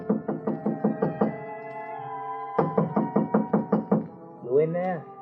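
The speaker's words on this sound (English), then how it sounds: "someone knocked on the door" Two bursts of rapid, loud knocking on a hotel room door, about six raps at a steady pace, a pause, then another run, followed by a voice.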